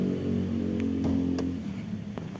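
A Toyota Innova Reborn engine idles steadily nearby, a smooth low hum with faint ticking clicks on top and no talking.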